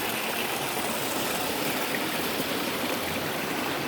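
A creek flows over large rocks in a continuous, close, steady rush of falling and splashing water, with no break or change in level throughout.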